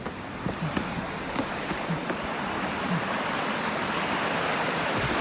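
A river swollen after two or three days of rain in Swat, Malakand, rushes steadily and loudly close by, a dense continuous roar of churning water with no speech over it.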